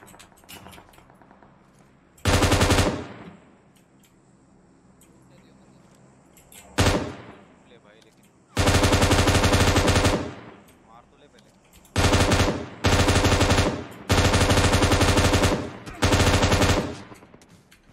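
Machine gun fire in a shooting video game comes in several long, loud sustained bursts separated by quieter gaps, with a few shorter staccato volleys near the end.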